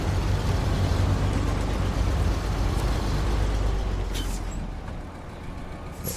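A heavy truck in SnowRunner rumbles steadily up close, then lets out a brief hiss of air brake as it parks, with a second faint hiss near the end.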